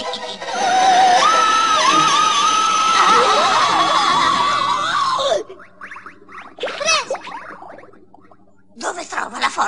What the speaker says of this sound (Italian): Dove trova la forza per urlare così quel moscerino?